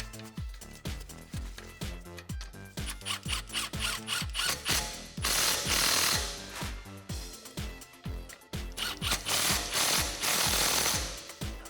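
A 13mm socket ratchet tightens caliper bolts on a 2006-2018 Ram truck, clicking in quick, steady bursts of sharp metallic ratcheting that carry on at an even pace throughout.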